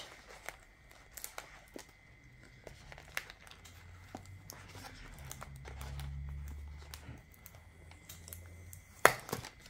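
Close, quiet crinkling and tearing of plastic packaging as a new package is unwrapped, with scattered rustles and brief clicks, one sharper rip near the end.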